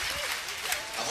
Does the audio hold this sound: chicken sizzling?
no